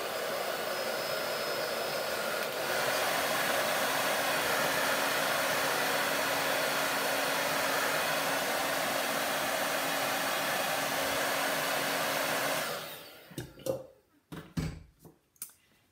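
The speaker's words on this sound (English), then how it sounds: "I'm gonna just dry it a little bit more" A hair dryer blows steadily on chalk paint coating a small metal bucket, a loud continuous whoosh that cuts off near the end and is followed by a few light knocks and handling sounds.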